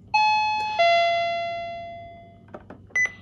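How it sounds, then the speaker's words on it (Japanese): A home doorbell chimes as a visitor arrives, a clear two-tone ding-dong with a long fading ring, followed by a few faint knocks and a short electronic tone. "ピンポン鳴ります、多分。"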